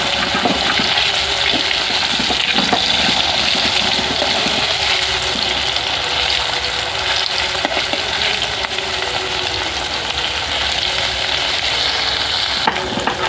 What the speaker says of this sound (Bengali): খুব হালকা করে ভেজে নেব।